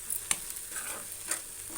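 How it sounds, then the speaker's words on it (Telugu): Green chilli paste sizzles and fries in oil while a spoon stirs it, a steady close crackle with two sharper scrapes of stirring standing out. "మిర్చి పేస్టు వేసుకొని మంచిగా బగ్గా కలుపుకుంటే"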